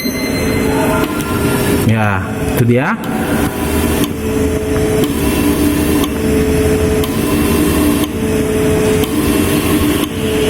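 A fuel injector tester and cleaner runs a reverse flushing cycle, giving a loud continuous mechanical hum with a steady tone. Someone speaks briefly over it near the start.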